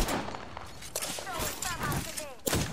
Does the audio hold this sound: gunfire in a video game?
yes